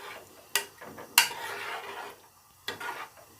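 A metal spoon scraping and clinking against a pot while stirring maash lentils with vinegar, a few sharp knocks spaced apart with softer scraping between them, close and moderately quiet.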